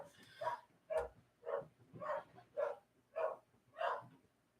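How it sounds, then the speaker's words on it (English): Seven evenly spaced barks from a dog, muffled and somewhat distant, sounding at a steady rhythm roughly every half second. "If you're my dog barking, I'm super sorry."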